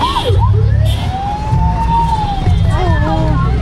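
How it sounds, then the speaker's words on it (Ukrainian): A toy fire truck's wailing siren sweeps up and down over a low engine-like drone, loud and close, repeating in rising and falling whoops. "Ось ти хочеш на пожежній машині?"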